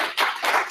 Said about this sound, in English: let's give Chris a warm round of applause